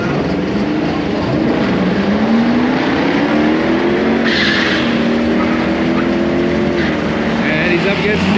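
A 1969 Chevrolet small-block drag racing car runs down the strip in a pure stock race, its loud, continuous engine roar rising in pitch as it accelerates, with tire noise and an announcer talking over it.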